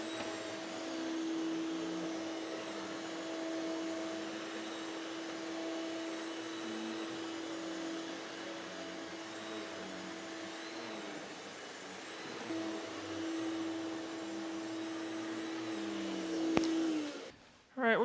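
A Hoover BH50700 cordless carpet cleaner hums steadily at close range with a constant motor whine, cutting off abruptly near the end.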